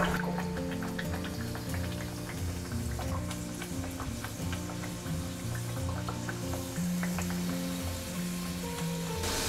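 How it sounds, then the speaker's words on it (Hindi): Stuffed Bengali Radhaballavi, urad dal–filled breads, frying in hot oil over medium heat, a steady close sizzle with crackling pops running throughout and no talk. "मीडियम आंच पर हम अच्छा सुनहरा होने तक फ्राई करेंगे।"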